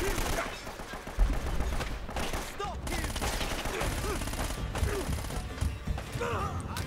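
Rapid gunfire rattles through a battle in Uncharted: Drake's Fortune, with repeated close shots and bursts forming a steady, loud barrage, and a voice heard intermittently in the mix.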